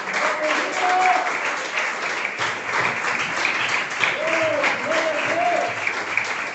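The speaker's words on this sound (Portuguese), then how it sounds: "aplauda o Senhor Jesus" A church congregation applauds steadily throughout, with dense sustained clapping and scattered voices calling out over it.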